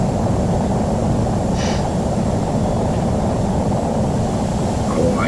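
Airplane engine droning steadily inside a flight simulator game, a continuous broad rumble holding at the same level throughout with no talking.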